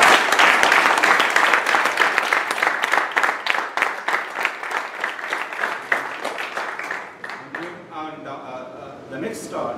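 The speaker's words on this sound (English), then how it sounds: "please clap for Kumran sir." Applause from the audience at a committee installation ceremony, a loud dense burst of many hands clapping that gradually thins and fades toward the end, with some voices murmuring underneath.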